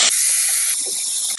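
Beef pieces dropped into smoking-hot oil set off a sudden loud, close hiss that holds steady and roars with sizzling for the whole moment, with no voices.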